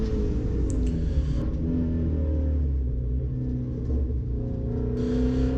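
A Ford Mustang GT350R engine drones steadily on a race track at an SCCA Time Trials Nationals event, with a heavy low rumble that swells slightly toward the end as the revs come up.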